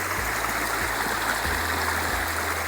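Creek water flows and trickles steadily close by during a spring horseback ride, a continuous wash of rushing water with a low rhythmic thudding underneath.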